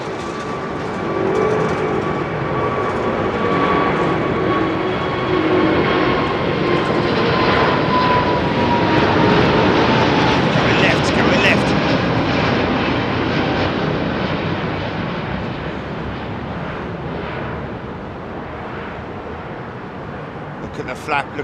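A heavy jet departs Heathrow Airport, its engines roaring loud and sustained as it climbs past, with a falling whine and a broad rumble that slowly fades toward the end.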